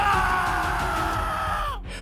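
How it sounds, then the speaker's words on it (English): A man screams from the next room at the Stoke Moran estate in a dramatized Sherlock Holmes Speckled Band story. One sustained, strained cry rides over a low rumble and trails off at the end. "Then a scream erupted from the room next door."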